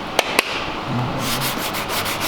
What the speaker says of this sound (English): when you're sanding, not to sand into the bumper